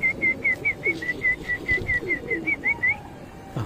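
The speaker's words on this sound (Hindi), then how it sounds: "तो ये ब्राउन कबूतर है" A brown pigeon on a rooftop gives a rapid, even run of about fifteen short, clear coos, close and loud, ending in a brief pause.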